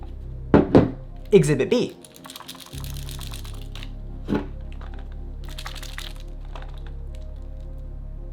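A few sharp plastic clicks from the stiff strap clips on a Sony A7S III camera, in quick bursts near the start and once more later, with a short spoken phrase and low room hum.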